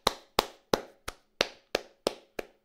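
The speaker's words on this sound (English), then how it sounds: "Real huge hand of applause." Eight sharp, evenly spaced hand claps, close and crisp with no talking, given as applause for guest speaker Andras Kovacs after a talk on toroidal models of the electron and proton.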